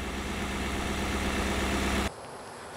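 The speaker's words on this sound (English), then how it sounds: "underneath the hood, there's a V8." A Ford F-250 pickup's 6.7-liter V8 diesel engine idles with a loud, steady, close rumble that cuts off abruptly near the end.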